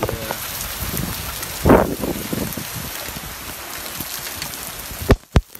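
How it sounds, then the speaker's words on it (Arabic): Heavy thunderstorm rain in Haditha, Anbar province, a dense steady downpour hissing on surfaces nearby, with a brief louder gust around the middle and a few sharp knocks near the end. "امطار جدا قويه في مدينه حديثه محافظه الانبار"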